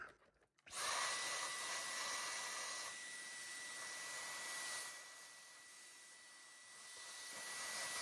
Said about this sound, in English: I'm just using my Dyson with some air lines taped to the end to be able to reach in there and vacuum it out.